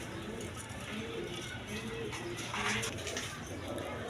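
Tiger-coloured pigeons, a pair kept with eggs and chicks, cooing in a low repeated murmur amid a busy, noisy loft background.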